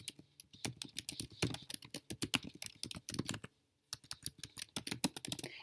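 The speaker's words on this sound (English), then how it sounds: "you're going to type in your email and password that you used when you created your Prezi account." Email and password typed on a computer keyboard, rapid irregular clicking keystrokes in close bursts with a brief pause near the end, no talk.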